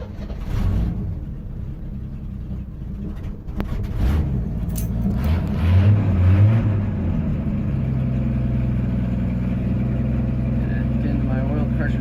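A car nicknamed Buttercup cold-starting on a cold morning: a steady, close engine rumble that swells as it's revved, then settles back into an even idle.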